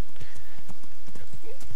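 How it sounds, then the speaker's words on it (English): A summonable horse in the video game Kingdom runs up, with steady clip-clop hoofbeats at a loud, even pace and a short whinny near the end. "You push the X key and Pebbles will come running."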